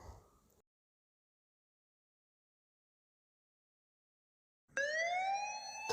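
A police siren wails in loud rising and falling tones. It bursts in abruptly after a long silence and fills the final second or so.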